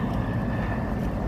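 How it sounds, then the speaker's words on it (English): A helicopter flies low near the Jefferson Memorial in Washington DC, giving a steady, loud rotor and engine rumble that carries unbroken through the moment with no talking. "Look how low it's going in front of the Jefferson Memorial there. Hold on a second there. Look at that helicopter."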